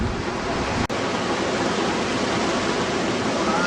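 Loud, steady roar of a mountain torrent rushing near a camp in Ladakh, continuous and dense with one brief dropout, no voices.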